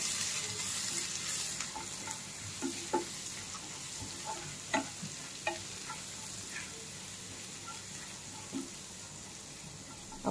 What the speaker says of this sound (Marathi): एक मिनिट फ्राय करायचे आहे पेस्ट.